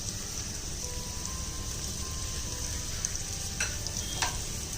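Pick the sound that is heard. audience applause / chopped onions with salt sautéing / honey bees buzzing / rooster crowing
chopped onions with salt sautéing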